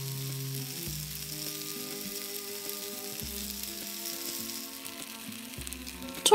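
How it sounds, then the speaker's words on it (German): Mushrooms sizzle steadily in hot oil in a pan, cooked as a vegan steak, a constant close frying hiss with faint background music and a brief clatter at the very end. "Wenn das Öl heiß ist, legt ihr die Pilze darauf und grillt sie für etwa 5 Minuten von jeder Seite"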